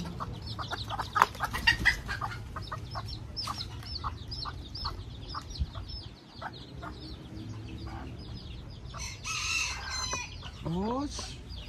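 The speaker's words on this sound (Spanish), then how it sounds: "estos son gallitos kikiriki, pollitos kikiriki" Young roosters and chicks cluck and chirp in a farmyard, with busy overlapping calls throughout and a crow near the end, mixed with outdoor background noise.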